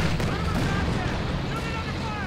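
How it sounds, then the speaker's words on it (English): 240mm artillery fire in a video game, heavy booming blasts with rumbling tails, heard under a commentator talking. "240mm artillery being called in on the Raketins, forcing them to reposition"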